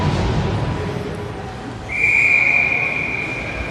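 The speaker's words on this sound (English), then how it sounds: "Whistle down on the defensive battle" A referee's whistle at a ringette game gives one sustained, loud, steady blast lasting nearly two seconds over arena crowd and rink noise.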